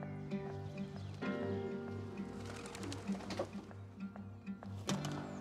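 Racing pigeons coo in repeated low throaty phrases close by, a steady rhythmic burbling from several birds with a few brief clatters over it.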